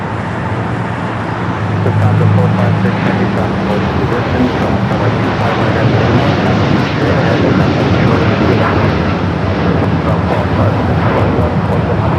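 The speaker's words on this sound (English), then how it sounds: "Dreamliner now rolling down." Boeing 787 Dreamliner taking off down the runway at an airport, a loud sustained jet roar with a deep rumble filling the scene steadily, mixed with some road traffic.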